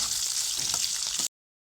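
Onion, dried red chilli and bay leaf fry in hot oil, a steady bright sizzle that stops abruptly after about a second.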